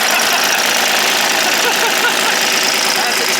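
A 1957 GMC diesel engine, glow plugs preheated, turns over and runs with a dense, rattling clatter, loud and close, holding steady throughout with a rough knocking texture.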